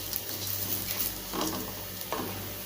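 Garlic roasting dry in a kadai for murungai keerai idli podi, a soft steady sizzle with a few brief stirring scrapes, close and fairly quiet, no one talking.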